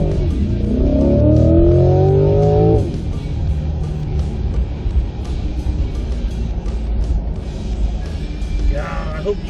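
A 2020 Chevrolet Corvette in race mode with stability control off, its engine revving hard and climbing through gears, loud and close for about three seconds, then settling into a rough rumbling cruise with wind noise.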